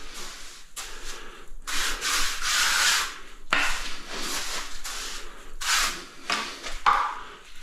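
A trowel scrapes and spreads mud across a bathroom floor in repeated rough, gritty strokes, close by, with short pauses between passes.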